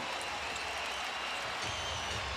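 An arena crowd at the Rose Garden roars after a one-handed dunk in a 2010 Portland Blazers versus Minnesota basketball game, a steady, dense wash of cheering and applause throughout.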